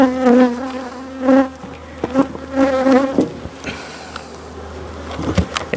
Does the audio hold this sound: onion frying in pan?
no